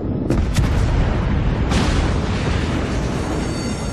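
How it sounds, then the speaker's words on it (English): Naval guns of a Cleveland cruiser in World of Warships fire in heavy booming salvos, loud and close, with a few sharp cracks over a dense rumbling roar. "Rotating my guns so that I can shot at this enemy cruiser."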